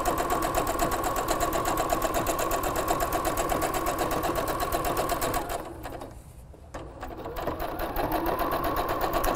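A sewing machine runs steadily, stitching the seam allowances of a bath towel cap, with a continuous close whirring hum that briefly slows and dips near the end before resuming.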